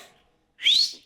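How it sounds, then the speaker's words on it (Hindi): A person whistles one bright rising note that swells loudly and then fades, after a brief quiet stretch. A trace of voice comes just before it. "एक बार सीटी बजाओ ना"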